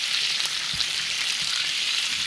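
Bacon fries in a pan, with a sauce boiling alongside, making a steady, close crackling sizzle with a few soft stirring bumps underneath.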